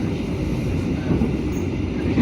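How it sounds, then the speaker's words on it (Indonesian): Motis Selatan train crossing the Argo Wilis at Jeruk Legi station, a close, steady low rumble of rolling wagons with no pause. "KA Motis Selatan di stasiun Jeruk Legi bersilang dengan KA 10 Argo Wilis."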